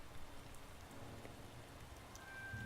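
Steady soft rain patters with a faint wind wash through a rainy video game town, an even, quiet ambient hiss with light droplet ticks and no voices.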